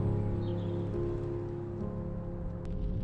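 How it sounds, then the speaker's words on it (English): Heavy rain falls in a steady, loud wash across the whole stretch, with a faint low hum underneath and no voices. "Like, I cannot emphasize enough how much rain there was during this day."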